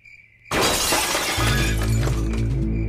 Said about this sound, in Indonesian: kok ada suara piring pecah?